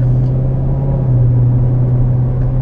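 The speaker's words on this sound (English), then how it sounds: "I don't know if you can hear the car shifting," A 2017 Corvette Z06 with an automatic transmission cruises with a loud, steady low engine drone inside the cabin, its pitch stepping slightly about midway as the gearbox shifts.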